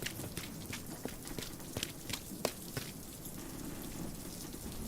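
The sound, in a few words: heavy rain sound effect in audiobook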